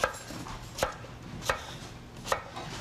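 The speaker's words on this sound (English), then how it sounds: "you can put the planks flat side down on the cutting board, and then you can cut them crosswise into 3/4-inch chunks" A knife cuts potato planks crosswise into chunks on a cutting board, landing four distinct, crisp chops at an uneven, unhurried pace, close and clear against a quiet room.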